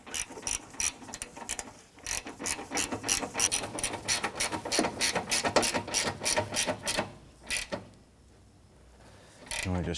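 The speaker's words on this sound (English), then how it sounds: "We'll go ahead and tighten that down." Ratchet wrench tightening a bolt while installing a horn on a 1994-2004 Chevy S10, a fast run of close, sharp clicking strokes with brief pauses before a final short burst.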